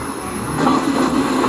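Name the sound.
train passing, seen earlier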